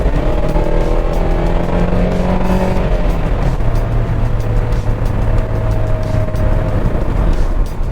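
A 2011 Mazda 6 Touring accelerates hard from cruising speed, its engine note rising then dropping as the transmission downshifts into third gear, a steady loud drone with shifting tones heard from inside the car.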